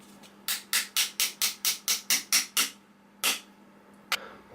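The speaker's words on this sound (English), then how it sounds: "Which is done with a hammer." Hammer tapping pins into the frame of a Taurus PT 24/7 Pro C DS pistol during reassembly, a quick run of about ten evenly spaced metallic taps, then two more separate strikes, close and crisp.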